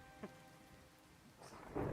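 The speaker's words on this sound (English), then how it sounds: "Oh, that lightning struck the excavator?" Thunder rolls in Minecraft during a rainstorm after lightning strikes an excavator built of lightning rods, a faint crack followed by a rising, rumbling boom over steady rain.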